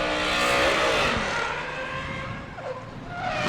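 A drift car at Yas Marina circuit in Abu Dhabi revs hard through a corner, engine note rising and falling with tire squeal, loud and close before fading a little, then climbing again.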